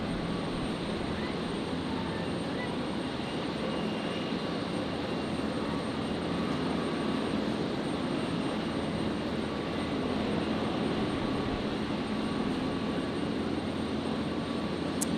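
An Airbus A380 jet departs Brisbane airport, a steady, distant broadband engine roar holding at an even level throughout with no talk.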